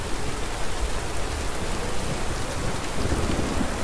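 Steady rain and storm ambience from an audio drama, set in a jungle downpour, with a dense continuous hiss of falling rain and a low rumbling undertone of thunder throughout, no voices.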